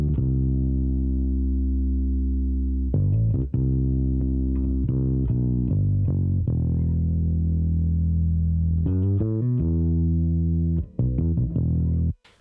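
Bass guitar re-amped through a Boss Katana 210 bass amp, loud sustained distorted notes with chorus-like effect, played in phrases with sharp note changes and short gaps, no voices.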